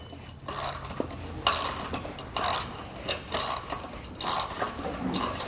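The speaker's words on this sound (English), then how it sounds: "Come back with my ratchet and wrench and tighten it down." A ratchet and wrench tighten a nut on the tongue of a Malone EcoLight Sport trailer, giving bursts of quick metallic clicking strokes with short pauses between them, close and fairly loud, with no talking.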